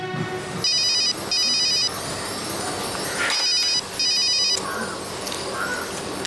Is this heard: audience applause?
no